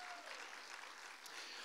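Church congregation applauding steadily throughout, a dense wash of many hands clapping at moderate distance with no voices standing out.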